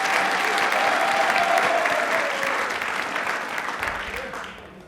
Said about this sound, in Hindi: महिलाओं के लिए जोरदार होनी चाहिए प्लीज